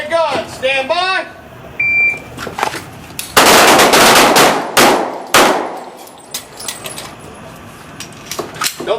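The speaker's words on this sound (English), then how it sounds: "Two shots from the holster." Handgun shots fired from the holster on a combat handgun course range, a cluster of loud sharp cracks from several shooters in quick succession, preceded by a shouted range command and followed by softer echoes.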